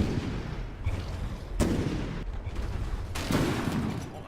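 Tank cannon fire from a T90 in the vehicle combat game From The Depths, three heavy booming shots spaced about a second apart, each with a rumbling tail.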